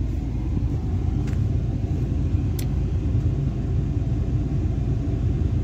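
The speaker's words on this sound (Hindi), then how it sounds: "देख सकते हो गाड़ी भी अपना स्टार्ट ही है।" A parked vehicle idles with its engine running while a turbocharger boost control position sensor fault is being checked, giving a steady, close low rumble with no variation and no talk over it.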